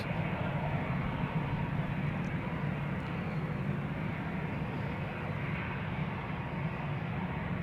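Vueling airliner holding on runway 36 left, the Polderbaan at Amsterdam Schiphol, its engines giving a steady loud broadband roar with a deep rumble throughout, unbroken and close.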